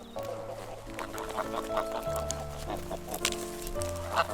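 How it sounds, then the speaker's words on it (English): Free-roaming geese on an open farm honk and cackle at close range, with overlapping calls in an irregular rhythm throughout. "The geese are free to come and go as they please."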